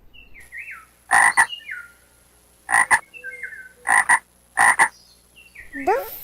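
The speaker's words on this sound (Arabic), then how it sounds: "ضفدع." A frog croaking loudly and near in four short paired bursts, spaced a second or so apart, with quieter chirping bird calls between them and a faint steady high whine in the background.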